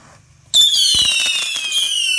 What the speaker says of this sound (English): Rico and Trevor over there getting Rico's fireworks out.